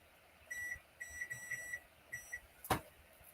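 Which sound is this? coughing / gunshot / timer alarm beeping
timer alarm beeping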